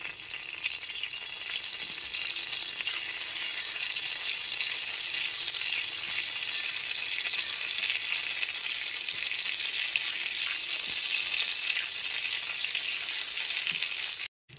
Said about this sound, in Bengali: ওর গ্যাসের ফ্লেমটা লোতে রেখে ফোড়নটা হালকা করে ভেজে নেব।